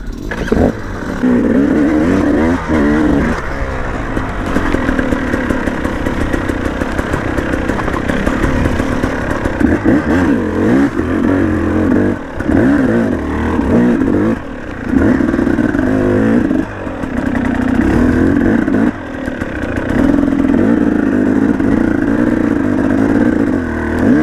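A cross trainer dirt bike engine revs hard and continuously, loud and close, its throttle rising and falling with clattery mechanical texture over the whole stretch, with only brief dips between bursts.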